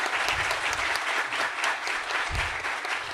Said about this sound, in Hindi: तालियों के साथ स्वागत है अरविंद गौड़ जी का।